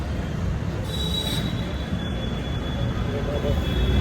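A Pune metro train runs with a steady low rumble and a thin high squeal of wheels on the rails, continuous throughout.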